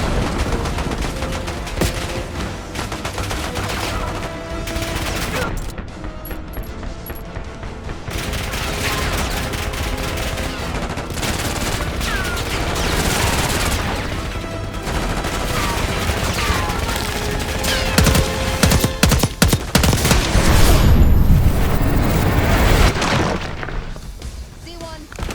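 Heavy combat in Call of Duty: Black Ops 6: bursts of automatic gunfire, thuds and shattering impacts crowd a long stretch of intense battle noise, with voices calling out now and then over the clamor.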